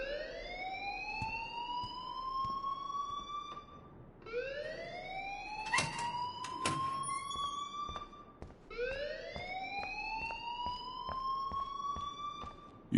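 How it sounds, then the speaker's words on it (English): A siren-like alarm in a video game rings in repeated rising wails, three long sweeping cycles about four seconds each, loud and steady with faint clatter underneath and no talking. "please turn off that alarm since that's your job"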